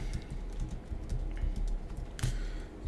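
Steady typing on a computer keyboard while writing XHTML list code, quiet rapid key clicks running continuously and close up, with no speech over them.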